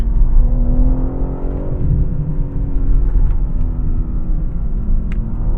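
A BMW M3 CS Touring engine drones loudly up close while braking and downshifting, its pitch sliding down as it slows, with a low steady rumble throughout.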